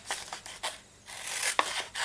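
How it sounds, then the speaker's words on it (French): Scissors snip away excess material while decorating a flamingo-themed planner, a few close, quiet crisp cuts and paper rustles in short bursts with brief pauses between them. "Je vais découper ici"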